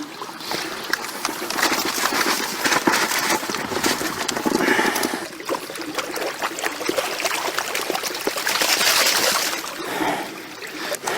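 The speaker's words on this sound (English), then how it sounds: "just tip the majority of the water out of the bucket, just so we get down to the gravel" Water is tipped out of a bucket onto gravel beside a small river, a rushing, splashing pour that swells and eases over several seconds, close and fairly loud, with no talk.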